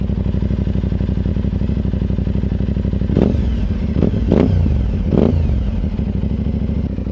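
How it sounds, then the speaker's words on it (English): A loud, rough motorcycle engine running without a silencer idles close by, then three sharp revs blip in quick succession before it settles back to idle. "let me just place the microphone down on the bike and give it some revs"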